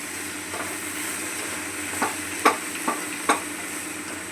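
Mung beans, coriander and chili mixed in a pan with a soft steady sizzle underneath, while a spoon scrapes and taps against the pan in a few distinct knocks toward the end.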